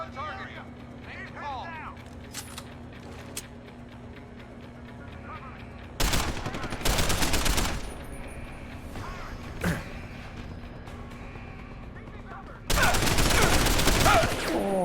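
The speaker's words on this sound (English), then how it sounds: "I just unloaded like 7 bullets into that guy's chest." Gunfire in the action game Deus Ex: Human Revolution: loud, close bursts of automatic fire in separate volleys with quieter stretches between them. Faint game ambience sits in the background.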